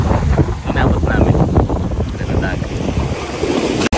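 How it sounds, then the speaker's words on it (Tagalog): Waves wash in and draw back along the shore at a beach resort in Lian, with heavy wind buffeting the microphone and people talking over the rushing surf. "So, yung alon na bumabalik."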